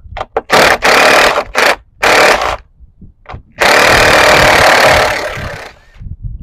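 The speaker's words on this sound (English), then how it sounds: "the drill makes things 10 times better" Power drill or similar tool on a Porsche 944 during restoration work, several short loud bursts followed by one longer sustained run, harsh and close with gaps of silence between.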